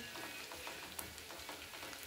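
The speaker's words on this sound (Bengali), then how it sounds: "পেঁয়াজগুলো এবার গোল্ডেন ব্রাউন করে ভেজে নিচ্ছি।" Steady crackling sizzle of onions frying golden brown in oil, with a few faint clicks, fairly quiet and continuous throughout.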